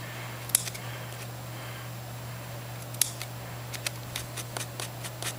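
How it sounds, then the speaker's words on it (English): Scissors snip hardened wax out of carpet in a quiet room, giving sparse, sharp clicks and cuts that come faster toward the end over a constant low electrical hum. "keep working your scissors down into the bases of what you have, and you can start snipping them into pieces"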